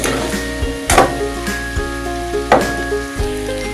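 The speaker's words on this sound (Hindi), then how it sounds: "अभी इसमें मैकरोनी शामिल कर देंगे। बिस्मिल्लाहिर्रहमानिर्रहीम। और उसको अच्छे से मिक्स कर लेंगे।" Macaroni being stirred into sizzling chicken in a pan for a Pakistani chicken macaroni dish: steady close frying hiss broken by a few sharp spoon knocks against the pan.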